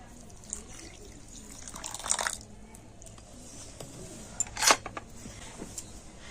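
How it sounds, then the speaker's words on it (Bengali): Warm water poured from a bowl into semolina, faint splashing and liquid trickles with a couple of brief louder pours over a quiet background. "এই এক বাটি জল আমি সুজির মধ্যে দিয়ে দেবো"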